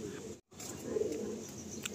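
A Madrasi pigeon gives a soft, low coo close by. Quiet room noise sits around it, and a brief gap cuts in near the start.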